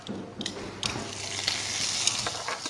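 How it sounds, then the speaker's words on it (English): Oil and garlic butter sizzling in a steak pan, a steady close crackling hiss that swells slightly and holds through the whole stretch with no talk. "I'm going to add a little bit of oil and my garlic butter."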